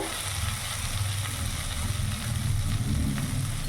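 Spices and oil fry in a pan for Bengali cauliflower and potato kalia, a moderate continuous sizzle with a low rumbling undertone throughout, heard without speech.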